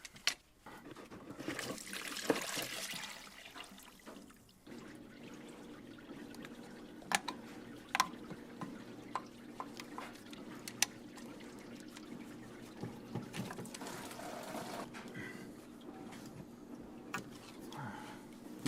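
Coolant drips and trickles from hoses pulled off during a water pump replacement on a 2003 Chevrolet Suburban, a scattering of small wet drops and dribbles, fairly faint, close by.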